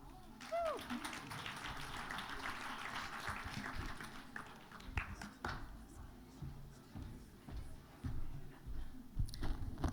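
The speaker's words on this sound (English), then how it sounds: "Please receive her with an applause." Audience applause at a talk on ending harmful practices welcomes someone speaker from Canada, a steady wash of clapping over the first half that thins out while a voice talks over it and takes over.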